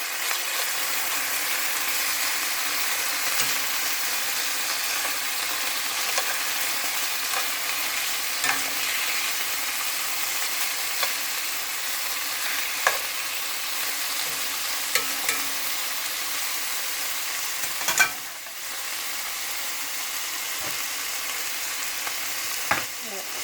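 Seasoned chicken tenders fry in a pan as they are turned over: a loud, steady sizzle of hot oil throughout, punctuated by occasional soft clicks and scrapes from flipping, close up and without talking.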